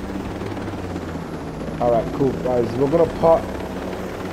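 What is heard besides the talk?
helicopter in video game Ghost Recon Breakpoint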